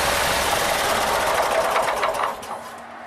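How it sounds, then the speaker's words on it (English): Mini truck engine spun over after new drive belts are fitted, a loud, steady whirring and rattling drone that holds for over two seconds and then winds down, with no talk. "Now I'm going to spin the motor over just to make sure they seat themselves in."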